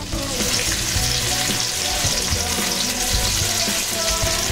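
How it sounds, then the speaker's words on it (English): Beef rolls sear in a hot frying pan, giving a loud, steady sizzle and crackle with faint stirring or shifting throughout. "Now you just want a nice sear on the bottom."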